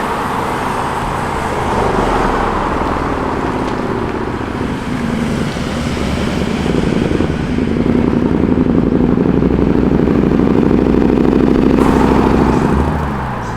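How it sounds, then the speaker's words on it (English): A motorcycle arrives at a car show, its engine droning and rising steadily over roadway noise. The engine sound grows louder toward the middle and end and holds as a continuous hum with no talk. "Oh, it's a bike."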